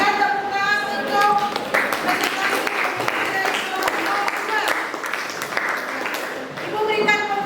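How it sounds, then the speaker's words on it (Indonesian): A classroom audience breaks into applause at the close of a lesson on qadha and qadar, loud mixed clapping that swells in the middle with a voice speaking at the start and again at the end. "Berikan tepuk tangan untuk"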